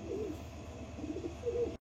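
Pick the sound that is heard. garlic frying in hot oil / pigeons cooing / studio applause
pigeons cooing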